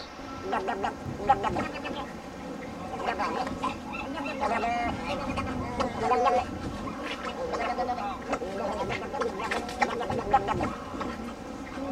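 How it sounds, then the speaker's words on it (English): Harsh, croaking snowy egret calls repeat in bursts across the clip, gargling and squawking over a busy background on Alcatraz, with some voices mixed in. "We were lucky to see some snowy egrets. They were making crazy sounds."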